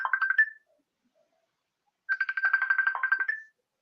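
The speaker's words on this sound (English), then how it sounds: "somebody's phone ringing" A phone ringing with an incoming FaceTime call, two bursts of a bright, warbling electronic ringtone separated by a second and a half of silence, close and clear with no talking.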